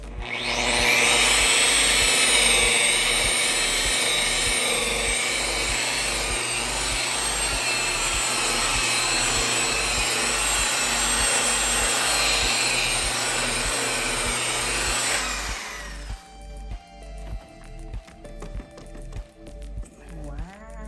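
A machine polisher buffs polish into a hazy car headlight with a steady, close whirring drone for about fifteen seconds, then spins down into a series of rhythmic soft thumps.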